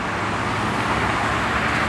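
A Chevrolet Corsa pickup rolls past on a city street in Curitiba, Brazil, a brief steady engine and tyre rumble amid surrounding traffic noise, moderately near and without talk.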